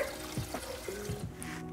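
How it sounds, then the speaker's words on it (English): Water pours into a soup pot during home freezer-meal cooking, a steady close trickle with a few splashy bursts and no talk over it. "To that, we are also going to add two cups of water."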